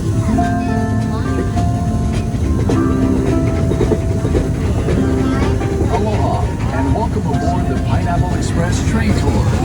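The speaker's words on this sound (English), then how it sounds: "This 2-mile, 22-minute train ride will take you through a working plantation of pineapple and other crops" The Dole Plantation Pineapple Express tour train rolls through a working pineapple plantation with a constant, loud rumble and faint clatter, while voices carry over it.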